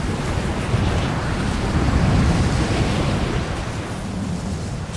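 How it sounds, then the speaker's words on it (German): Howling mountain wind from the video game Rise of the Tomb Raider roars as a loud, continuous rushing gust that swells and eases slightly, with no voices over it. "Dieser Wind ist Wahnsinn."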